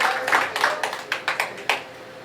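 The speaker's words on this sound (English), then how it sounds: "Give her a round of applause" Scattered applause from a small audience at a stage show at Therapy Bar and Grill: about eight crisp, separate claps in an uneven rhythm, fairly close, with no talk over them.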